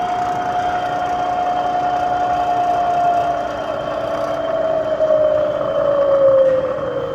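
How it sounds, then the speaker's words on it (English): A Bridgeport 2HP variable-speed knee mill with ProtoTrak CNC control running in low gear, a steady motor drone with a whining tone that slowly drops in pitch, close and continuous. "I'm going to put it in low gear, turn it back on and forward."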